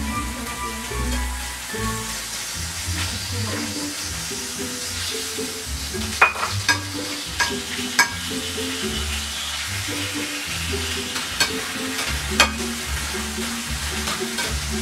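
Chicken and squid stir-fried in edible oil, a steady loud sizzle with scraping stir strokes and a few sharp utensil clanks against the pan, no talking.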